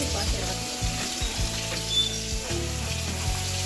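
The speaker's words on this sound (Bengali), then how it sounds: "এখানে মাছ ভাজা হচ্ছে পটল ভাজা" Fish and pointed gourd fry in a pan in a home kitchen, giving a continuous close sizzle over a low background hum.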